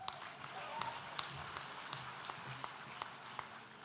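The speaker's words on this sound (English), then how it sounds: "Big round of applause for all our postgrads" Applause from a graduation ceremony crowd, a steady dense wash of clapping at moderate distance lasting throughout, with a few sharper individual claps standing out.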